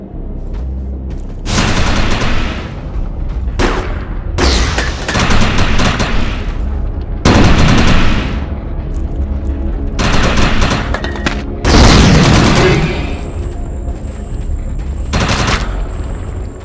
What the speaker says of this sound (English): Shoot the projection while overcharge is activated.